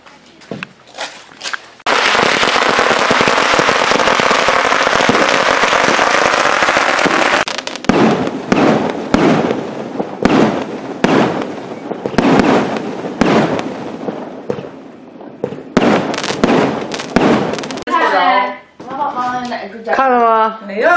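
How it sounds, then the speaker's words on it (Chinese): Firecrackers and fireworks go off outdoors on Chinese New Year's Eve, a long dense crackling barrage followed by scattered loud bangs, with people talking and children's voices over and after the blasts. "出去放炮上去，走。"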